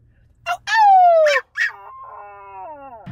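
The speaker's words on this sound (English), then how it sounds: "You want to howl for the people?" A dog howls close by in a long, sliding, mournful wail that falls in pitch, followed by shorter rising and trailing howls, loud and alone without speech.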